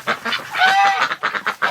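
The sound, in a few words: ducks in a barn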